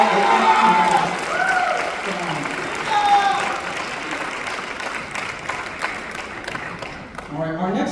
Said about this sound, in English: How about another round of applause for Aiden on bass?